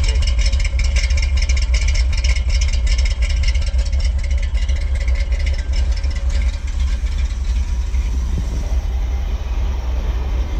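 A Ford F250 truck's 351M V8 engine with Hooker headers and Flowmaster exhaust, started after sitting all winter, runs with a heavy, steady low rumble and a loud, rough mechanical clatter that stays constant throughout.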